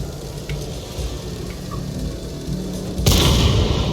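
A tank cannon fires in the World of Tanks video game, one sudden loud blast near the end rising out of steady game ambience and rumble.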